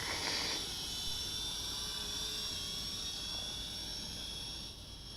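An XK X300-F FPV drone hovers in flight, giving a steady high-pitched whine of spinning propellers that holds at an even, fairly faint level throughout, with no voices.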